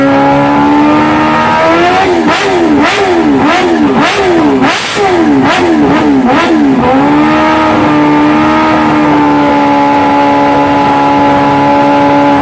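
A track-only Kawasaki motorcycle engine, the most powerful of its 2020 lineup, idles loudly, then revs in a quick series of sharp, rising blips before settling back to a steady idle.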